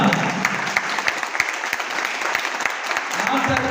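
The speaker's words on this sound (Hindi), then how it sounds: "जोरदार तालियां।" A seminar audience breaks into vigorous applause, with sharp individual claps standing out from a dense, steady patter. A voice speaks over the clapping throughout.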